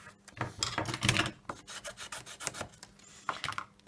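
Paper is burnished by hand while making a two-layer Lindor chocolate box, producing a series of short dry rubbing strokes, close and fairly loud, with brief pauses between them and no talk.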